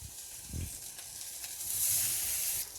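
Kawakawa fish, Fiji style, pan-grills in a hot pan, about three minutes a side. It gives a steady, close, hissing sizzle that swells slightly partway through, with a faint knock early on and no voices.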